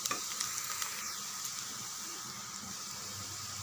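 Onions sauté in a pan for upma, a steady soft hiss and crackle with a few faint clinks of a spoon near the start and no talking.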